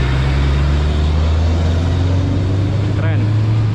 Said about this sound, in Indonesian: Oh, ada truk besar juga sini ya.